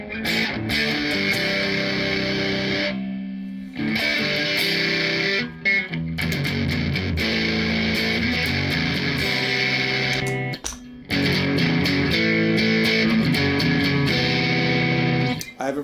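Electric guitar played through distortion pedals on a pedalboard, including a RAT-style distortion, rings out in loud, sustained saturated chords and riffs with short pauses between phrases.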